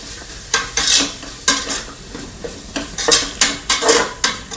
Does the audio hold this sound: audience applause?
no